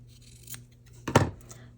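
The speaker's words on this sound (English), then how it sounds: "And I think I may just trim off some of this excess." Scissors trim away excess fabric from a layered fabric butterfly, making one quiet, crisp snip in an otherwise hushed room.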